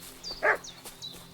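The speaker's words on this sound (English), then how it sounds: "What's that dog making such a fuss about?" A dog in the medieval game Kingdom Come: Deliverance 2 lets out one short, fairly loud bark midway, over a quiet ambient game background with faint high chirps.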